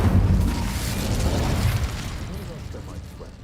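In Hogwarts Legacy an Incendio fire spell erupts with a loud, roaring whoosh and blast that gradually trails off into a crackling fade, with a voice present alongside.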